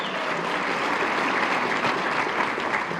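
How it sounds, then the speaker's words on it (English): An audience at a chamber of commerce annual meeting applauds, a dense and steady wash of clapping from a roomful of people that carries through the whole stretch without talk. "Let's give him a round of applause as well."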